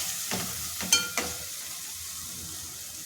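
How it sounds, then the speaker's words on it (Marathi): Soaked lentils tossed into hot oil in a pan for a mustard greens dish give a steady sizzle, punctuated by a few sharp scraping stirs early on, close and unaccompanied by voices. "मी जी डाळ भिजून घेतलेली आहे ती टाकून घेणार आहे आणि छान आपल्याला असे ती पण परतून घ्यायची"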